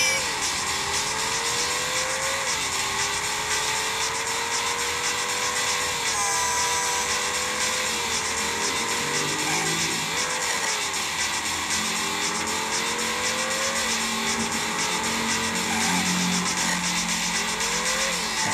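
Car engine revving and shifting in the video game Drive 2, a continuous buzzy motor drone rising and falling in pitch through gear changes, with tire squeals, steady and loud for the whole stretch.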